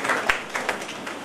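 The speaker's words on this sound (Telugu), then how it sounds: "చప్పట్లు కొడుతూనే ఉండాలి." A brief patter of audience clapping, fairly soft and scattered, during a felicitation by an MLA at an Arya Vysya Sangham building opening in Chandrasekhar Colony.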